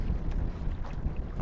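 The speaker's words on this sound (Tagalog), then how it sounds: "Hangin." Wind blowing across the water while fishing from a boat, a dense low rumbling buffet against the microphone, loud and continuous with no voices.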